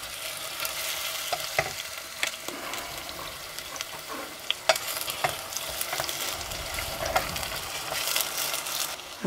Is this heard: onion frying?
yes